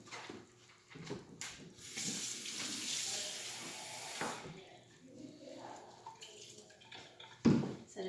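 Warm water runs from a kitchen tap into a measuring cup for naan dough, a steady close splash that swells and fades over several seconds, followed by a short clunk near the end.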